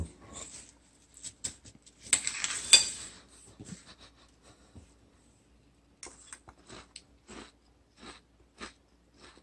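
Mealworm dish eaten with a spoon, close chewing and crunching with soft spoon clinks in bursts, loudest early then settling into spaced bites with brief pauses.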